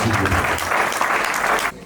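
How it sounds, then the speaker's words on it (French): A crowd at a wedding ceremony claps loudly and continuously, then the applause cuts off abruptly near the end. "On applaudit pour elle."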